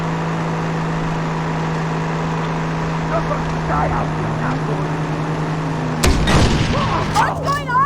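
In-game explosion in Far Cry 3 at an island port hotel: a constant engine-like drone, then a sudden loud boom near the end with a rumbling tail, faint voices underneath.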